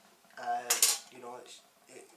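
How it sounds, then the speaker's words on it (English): A metal Crusader water bottle and cup are handled, producing a few close metallic clanks and bright rattling knocks between short gaps, with someone speaking softly around them. "the Crusader water bottle and cup"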